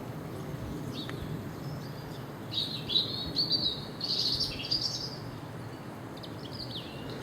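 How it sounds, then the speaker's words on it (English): Small birds chirp and trill in short bright bursts outdoors beside a garden pond, fairly distant and light over a steady low rumble of background noise, with no voices. "the birds are out singing"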